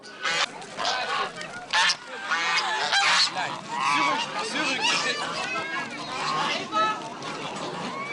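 A flock of about 50 geese honks loudly and continuously, a dense, noisy flock close by with overlapping calls throughout.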